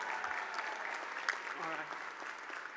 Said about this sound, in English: can I get a round of applause for all the photographers here, please?